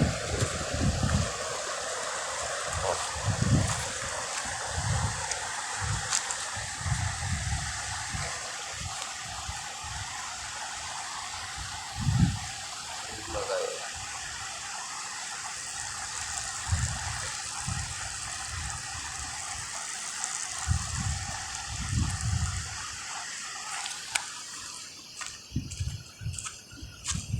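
Rushing river water roars steadily during a flood at night in heavy rain, a strong current churning without pause, carrying debris and bamboo, with occasional low thumps and splashes mixed into the constant flow.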